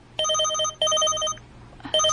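Phone text message notification tone, a bright repeating electronic chime that sounds in three quick bursts over a quiet low hum.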